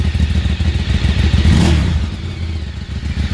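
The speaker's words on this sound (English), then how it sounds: "I just love the way this bike sounds." A 2012 Ducati 848 Evo superbike engine runs close and loud, a deep, lumpy idle with a brief rev swelling near the middle before settling back.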